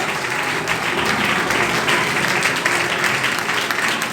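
A church congregation at a Sunday worship service claps loudly and continuously, a dense sustained wash of applause filling the hall, with voices faintly mixed in.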